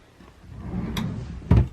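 A drawer in a cluttered kids' closet slides open with a soft scrape, then bumps to a stop with one solid knock near the end, close by and with no talk.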